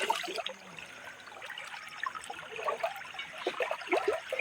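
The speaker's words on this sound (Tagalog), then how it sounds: "So, dito namin idadivert yung tubig" Water trickles and splashes steadily as a small stream is diverted for traditional sarep fishing in rural Burgos, La Union, with light bubbling and dribbling close by throughout.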